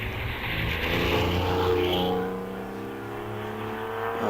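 A 1.8 litre turbocharged Mazda MX-5 rally car climbs a hillclimb course, its engine note rising and falling at moderate distance as it accelerates past.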